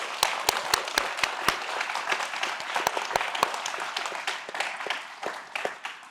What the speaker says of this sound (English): Please join me in giving a big round of applause to our panelists.